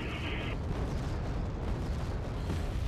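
Artillery fire in the wartime strategy game Wargame: AirLand Battle: a heavy, continuous rumbling barrage of booms blends into one dense, loud roar with no distinct separate blasts.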